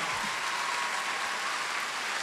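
Festival concert audience applauding in a steady, dense wash of clapping that holds at even loudness throughout, heard from within the hall.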